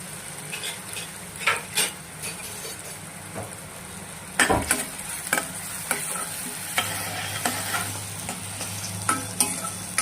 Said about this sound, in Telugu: ఇలా వేగినాయి కదండి, గోల్డెన్ కలర్లో వచ్చినాయి కదా.